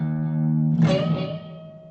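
A sustained electric guitar note rings, then a distorted, crunchy chord or bend bursts in and slowly fades.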